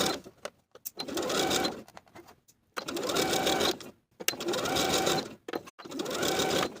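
Sewing machine running in several long bursts, basting the main fabric and lining of a fit-and-flare dress together, with short pauses between passes; the motor hum and needle clatter are close and fairly loud.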